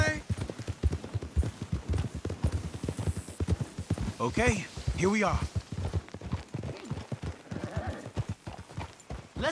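Hooves of horses clip-clopping in the video game Red Dead Redemption 2, a rapid, close, rhythmic patter with a horse neighing partway through, while someone talks over it.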